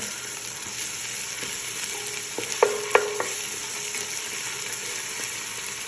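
Onion, garlic and ginger sizzle in a pan as they are stirred, a soft continuous frying hiss with a few sharp utensil clicks near the middle.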